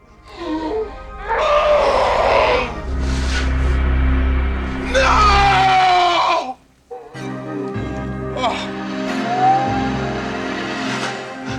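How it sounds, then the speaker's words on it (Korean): Children in a horror film scream and wail inside a room after a woman turns into a monster, giving long, loud cries over a dramatic score, with a brief gap before further moaning and voices. "그때 방 안에서 아이들의 비명 소리가 들려옵니다."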